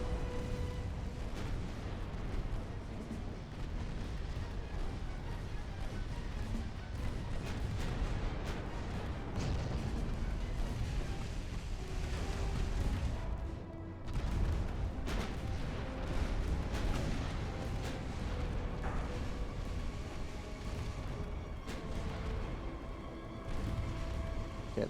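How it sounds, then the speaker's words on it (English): Battleship guns fire in a naval battle in the video game Ultimate Admiral: Dreadnoughts, with a continuous layered roar of booming salvos and distant explosions, dense and unbroken for the whole stretch. "All batteries fire on that forward battleship."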